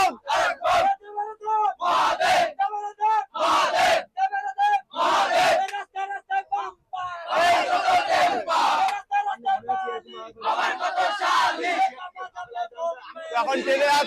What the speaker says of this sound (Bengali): এখন ট্রেনে আছি, প্রচুর ভিড় ট্রেনে